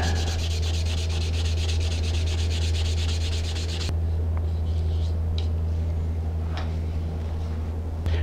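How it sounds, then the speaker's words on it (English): Hand sanding a polymer clay spinning top down to 320 grit: continuous close rubbing strokes over a low hum, dense at first, then a thinner, quieter scratch with occasional light ticks. "I'll sand that down to 320. And I'll then sand it off, going with the grain."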